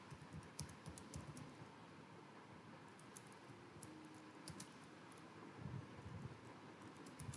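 Steady typing on a computer keyboard while writing Python code, a quiet, continuous run of soft key taps over a faint background hiss.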